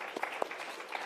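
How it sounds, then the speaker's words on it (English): An audience at a renewable and hydrogen energy event gives brief, faint applause, a distant patter of claps lasting about a second. "Let's give him a round of applause."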